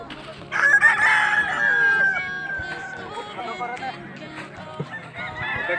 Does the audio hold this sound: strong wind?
no